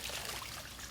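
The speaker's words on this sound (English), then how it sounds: "Make sure it's a nice smooth pour." Water is poured smoothly over a swimmer's face during a swim class warm-up, a continuous close splashing trickle with a steady level throughout and no talking.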